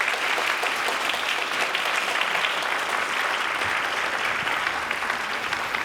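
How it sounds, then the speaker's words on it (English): Sustained audience applause fills a faculty of arts anniversary showcase after the closing performances by seven departments, steady dense clapping throughout with no pauses. "Let's give another round of applause to all the performances from our 7 departments today."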